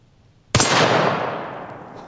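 A single sharp rifle shot from a Bergara 6.5 with an Ultradyne chassis and muzzle brake, fired at steel targets outdoors; a loud close crack followed by a long ringing decay that fades over about a second and a half.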